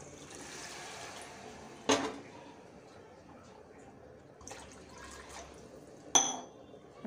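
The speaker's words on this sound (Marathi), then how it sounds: "आता आपण इथे टाकूया 2 ग्लास पाणी" Two glasses of water are poured into a simmering Nagpur Saoji chicken curry, a soft liquid splash followed by clinks of the glass against the pot, quiet and close.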